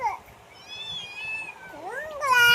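A cat meows several times, drawn-out and wavering, growing louder toward the end, while people talk nearby.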